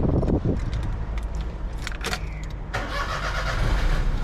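A 2002 Perodua Kelisa 1.0 GX manual starts up: a low, rough engine rumble runs steadily throughout, and its tone shifts audibly near the end as the idle settles, close and fairly loud with no talking.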